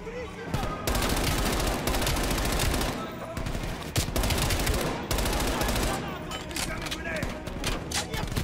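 Loud sustained AK rifle bursts in the Black Ops Cold War campaign, rapid automatic fire in long runs with brief gaps, close and dominant.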